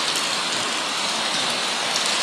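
Heavy rain pours steadily in Metro Manila during the monsoon season, a dense, even hiss of drops on surfaces filling the whole stretch with no voices.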